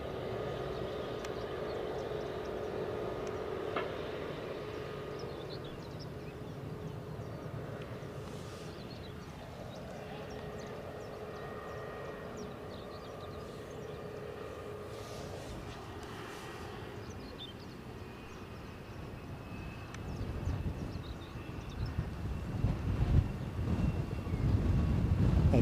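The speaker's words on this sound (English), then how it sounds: "Let's get on to the Loganair arrival that young Jack has announced." A Loganair plane arrives at Edinburgh airport, its distant jet drone hanging steadily amid wind noise and swelling into a louder rumble near the end.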